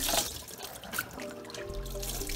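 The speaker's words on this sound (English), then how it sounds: "fill this up with water a little" Tap water runs into a container of beans being prepared for Nigerian akara, a close, steady splashing and trickling rush that fills the whole short stretch.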